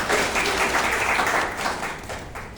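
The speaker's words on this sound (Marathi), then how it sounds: "सगळ्यांसाठी एकदा टाळ्या झाल्या पाहिजे" A classroom group gives a round of applause, dense close clapping that starts at full strength and slowly fades over a couple of seconds.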